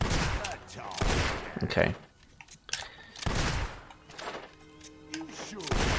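Gunshots in the video game Fable 2: several loud, broad bursts of fire with a gap in the middle, mixed with game sounds and spoken voices.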